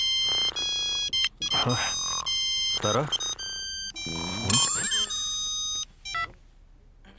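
A phone rings with an incoming call in a Punjabi film scene: bright electronic ringtone beeps repeat in short bursts, mixed with people talking and background music.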